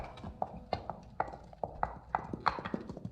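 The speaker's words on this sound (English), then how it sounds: "Listen. Horses." Horses' hooves clip-clop on a road in a brisk, fairly even rhythm of sharp knocks, moderately close, with light background noise and no other clear sounds.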